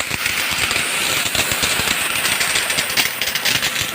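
A gasoline power sprayer engine runs steadily with a hose connected directly, giving a loud continuous mechanical drone with a rattly edge that holds at one level and stays close.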